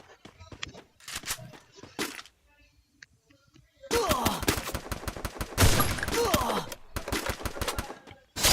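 Kar 98K rifle shots and surrounding gunfire in the mobile battle game Free Fire, sharp cracks in scattered bursts with a quiet gap, then a dense, loud stretch of rapid shots and impacts.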